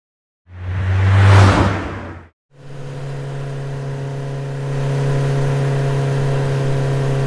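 A 150cc motorbike engine revs hard in a loud burst, cuts off briefly, then settles into a steady, droning idle hum close by.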